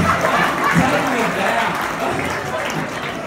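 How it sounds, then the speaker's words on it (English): Comedy club audience applauding steadily at close range, a dense wash of clapping with light chuckles mixed in, holding fairly level for a few seconds before easing slightly. "give this man a round of applause."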